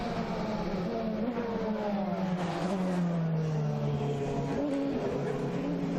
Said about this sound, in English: In comes the 14 Porsche, and Louise is down there.